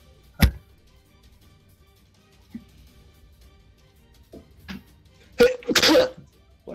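A single sharp sneeze rings out close by during a tabletop role-playing game session, followed after quiet stretches by scattered soft knocks and a louder burst of noise near the end.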